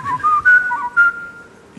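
A person whistles a short, wavering melody of a few clear notes, close and loud, with no talking.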